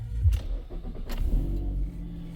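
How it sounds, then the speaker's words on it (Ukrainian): A 2008 Nissan X-Trail engine cranks and catches, a couple of quick bursts followed by a settling low rumble close by. "Так, отже, ми в салоні запустимо двигун."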